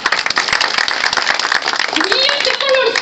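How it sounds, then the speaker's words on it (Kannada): An audience at a comedy show claps loudly and fast in a busy burst of many hands, with voices talking over the clapping toward the end. "ಇಂಡಸ್ಟ್ರಿ ಅವ್ರಿಗೆ ಒಂದ್ಸತಿ ಜೋರಾಗಿ ಚಪ್ಪಾಳೆ"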